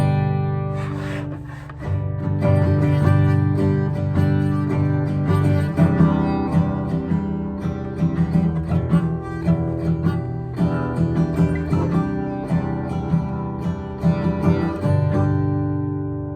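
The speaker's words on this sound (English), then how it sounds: "Let's take a listen to this instrument, the guitar." Acoustic guitar strummed and picked in a steady flowing rhythm, close and full, ringing chords sounding alone without any talking.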